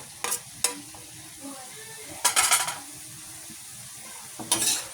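String beans (sitaw) with tender pork and chicken are stirred in a pan, where bursts of scraping and clanking utensil strokes land over a steady low sizzle, close and fairly quiet between strokes.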